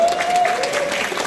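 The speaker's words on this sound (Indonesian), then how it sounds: "Kita berikan tepuk untuk kita semua" An audience claps together at a journalism talk, a brief, dense spatter of applause with a faint tone running underneath.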